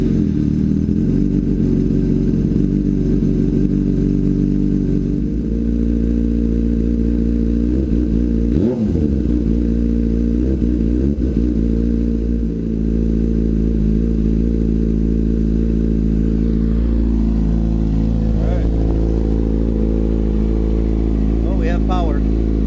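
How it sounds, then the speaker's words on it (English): A motorcycle engine fitted with a freshly installed Power Commander 3 runs steadily close by, its low throbbing drone rising in a few brief revs partway through, with no talk over it. "Alright, starting it after the Power Commander's in."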